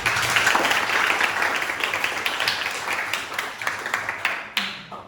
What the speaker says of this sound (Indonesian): Beri tepuk tangan untuk Almer.